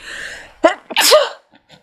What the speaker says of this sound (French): Le traditionnel éternuement du journal créatif.